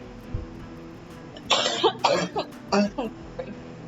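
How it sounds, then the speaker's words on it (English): A person coughs several times in quick bursts, close and fairly loud, with a brief throat clear, no talking. "Me coughing in my hand and literally touching my face."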